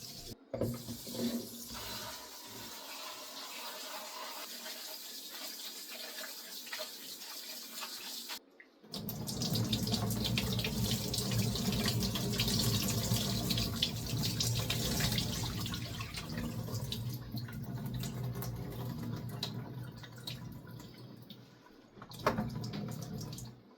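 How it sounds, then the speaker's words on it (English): Warm tap water runs into a sink over dill, celery and parsley, a steady broadband rush that pauses briefly and resumes louder and fuller, with soft splashing as the herbs are washed. "warm water and wash it off"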